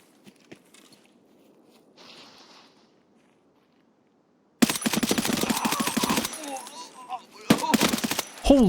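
Gunfire in the game Escape from Tarkov: several seconds of near, loud automatic bursts with rapid overlapping shots, following a quiet stretch with faint footsteps and rustling.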